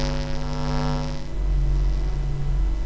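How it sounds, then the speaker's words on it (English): Steady electromagnetic hum picked up from a Mac computer and a secondary monitor, a buzzy harmonic tone that shifts partway to a lower, deeper sub-bass drone, continuous and close. "let's go and see what my Mac and my secondary monitor sound like"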